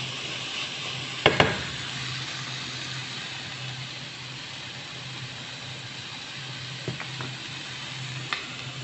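Carrots sauté in a pan for pinakbet vegetables: a faint, steady sizzling hiss runs throughout, broken by a few small clinks and scrapes from stirring, with no talking.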